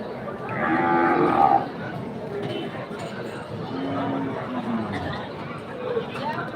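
A cow moos loudly nearby amid a busy crowd at a cattle market, with people chattering in the background and fainter lowing further off.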